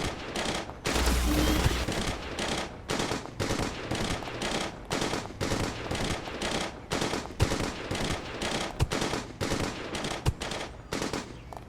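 Guns blaze in a superhero action video game, the Earth One versus Earth X crisis, with dense bursts of rapid machine-gun fire and volleys of shots stacked close together over a steady din.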